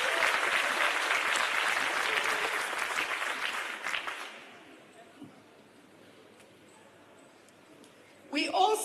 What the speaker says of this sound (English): Can we give both gentlemen a big round of applause?